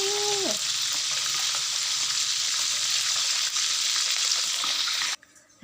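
Mackerel frying in hot oil, a steady close sizzle and crackle with faint popping throughout, no talk, cutting off abruptly near the end.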